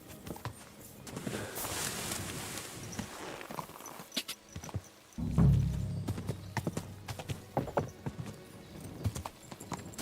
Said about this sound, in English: Our horse is all the way over there.